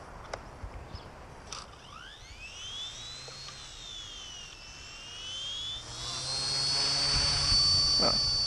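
Small Blade MCPX BL2 RC helicopter spooling back up after its tail rotor quit, a rising whine with upward-sweeping tones that grows louder toward the end, near and alone.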